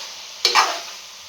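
A spoon stirring chicken and bean curry in a pot, one short scraping sweep over a steady frying sizzle, close and clear with no talk.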